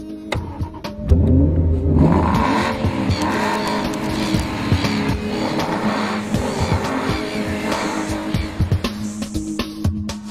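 A brand new Aston Martin Vanquish with a 4.3-litre V8, started and driven hard, its engine roaring loudly and continuously with revving and squealing tires, close and without talk.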